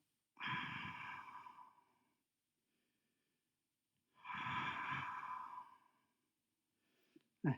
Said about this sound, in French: Inspire, souffle, inspire.